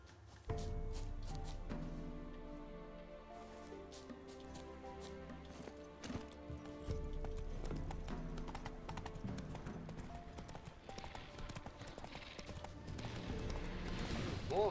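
Hooves of Roach, the horse in The Witcher 3, clip-clop at a steady gallop, close and loud over continuous game music, with a short pause near six seconds before the galloping resumes.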